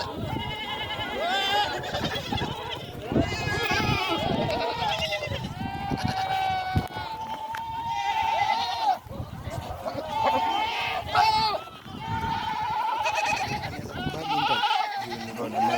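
Goats and sheep on a Kenyan goat farm, a herd of about 200, bleating repeatedly and overlapping, a steady chorus of close and distant calls throughout with livestock movement and some voices.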